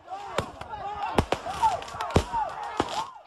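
Firecrackers and fireworks go off to scare a herd of elephants away from plantations near Way Kambas National Park, with several sharp, loud bangs at irregular intervals among whistling streaks and shouting voices.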